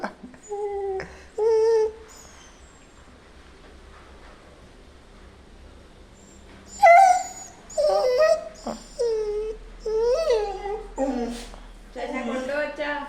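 A voice imitates a dog barking in short, loud bursts, with stretches of other talking and quieter gaps in between.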